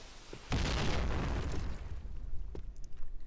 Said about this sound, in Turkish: Manessa'ya da güzel bir bomba attı Pur.